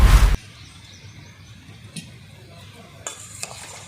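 Raw mango pieces are tossed and mixed with groundnut oil in a bowl for a sesame mango pickle. A loud burst of stirring opens, followed by quiet scraping and a few light clinks.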